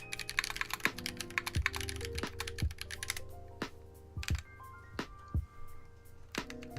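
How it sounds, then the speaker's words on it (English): Someone types quickly on a computer keyboard in a brief typing test, with rapid, uneven bursts of crisp key clacks over faint background music. "I'll do a very brief typing test on stream"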